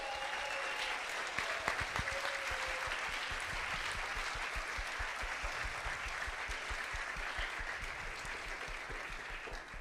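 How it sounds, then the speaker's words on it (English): Steady applause from a sizeable crowd, dense rapid clapping that keeps going for the whole stretch at an even level. "Big applause to AT&T."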